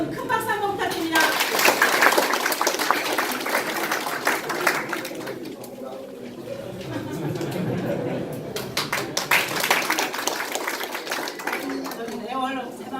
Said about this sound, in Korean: 여러분 큰 박수 한번 부탁드립니다